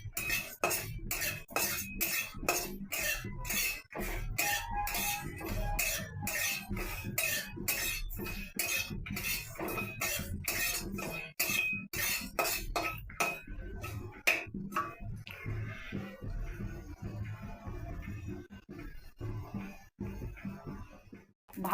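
Whole spices frying in a pan for a raw mango pickle are stirred with a utensil, producing rapid, regular scraping clinks against the metal for a long stretch before the stirring eases and the sizzle fades.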